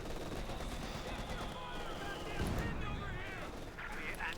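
Heavy machine gun fire, a .50 cal, rattles in a Company of Heroes 2 match between Wehrmacht and US Forces, a continuous dense barrage of shots and battle noise running beneath a commentator's voice.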